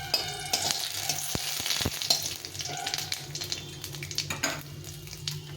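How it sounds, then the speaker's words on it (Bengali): Dried red chillies, cumin seeds and a bay leaf crackle and sizzle in hot oil while being stirred, with a few sharp pops and spoon scrapes against the pan. "একটা দুটো শুকনো লঙ্কা আর বেশ কিছুটা পরিমাণ জিরে ফোড়নে দিয়ে দিলাম"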